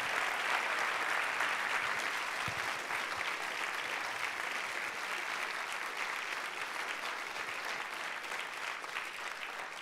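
Sustained applause from a large audience at a psychology convention symposium, steady dense clapping that fills the whole stretch without a break.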